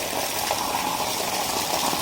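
Tap water running steadily into a spare bathtub, a continuous close rushing gush with no pauses, used for rinsing a K&N pod air filter.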